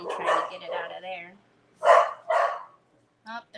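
A dog barks from a TV in a room where someone is crafting, a few sharp yips and barks mixed with voices, fairly close and moderately loud.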